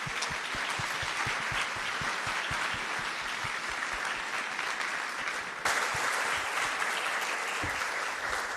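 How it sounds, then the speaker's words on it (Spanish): Audience applause for webinar panelists, a full, steady burst of many people clapping that holds loud for the whole stretch, with a brief level shift partway through. "Les invito a que demos un aplauso a los participantes."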